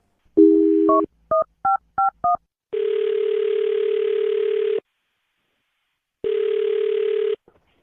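A telephone number is dialed: a string of short DTMF touch-tone beeps, followed by two long ringback tones with a silent gap between them.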